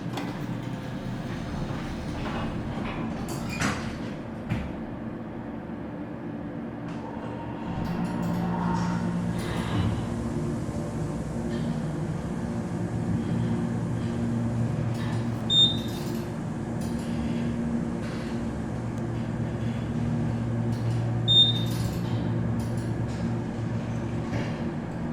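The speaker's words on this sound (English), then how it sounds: "We'll take one more ride and listen to the motor." A hydraulic elevator motor runs during a ride at McClelland Park, University of Arizona, Tucson, as a steady low hum that grows louder partway through, with a couple of faint clinks over it.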